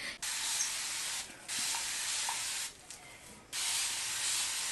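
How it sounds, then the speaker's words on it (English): Three bursts of hissing spray from a nozzle, each lasting about a second or more, separated by brief pauses, close and clear. "I'm gonna spray some water on it though to show you guys it's in its wet state"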